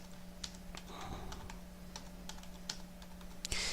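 Quick bursts of keystrokes on a computer keyboard as a file name is typed, faint and close, in short irregular runs with brief pauses.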